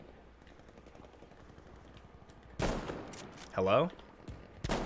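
Gunfire in the Battlefield 5 video game, a Breakthrough match: a soft, steady patter of distant shots, then louder bursts near the end, with a brief spoken word.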